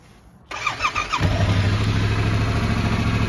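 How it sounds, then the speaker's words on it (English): A 2020 Yamaha Tracer 700 motorcycle engine cranks briefly and catches, then settles into a steady, loud, close idle with no talk over it. "Let's just give it a little start up."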